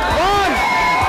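A college talk show audience at Doon Valley College, Karnal, cheers and shouts as a countdown ends, a loud, continuous crowd roar with whoops and raised voices running through the whole brief moment.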